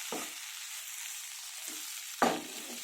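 Bitter gourd (karela) slices frying in a pan on the stove, a steady soft hiss under two brief louder stirring scrapes, close and alone with no talk.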